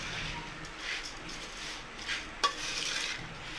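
Bhel is mixed in a bowl, giving soft rustling, scraping bursts of stirring at a moderate distance, with one sharp clink partway through.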